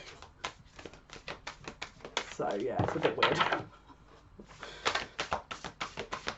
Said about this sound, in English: apologies if I'm shuffling in this way. It's just these cards are freaking huge